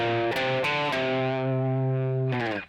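Overdriven electric guitar plays the fourth bar of the solo, a few quick picked notes leading into one long sustained note, then a brief flurry at the end, loud and upfront.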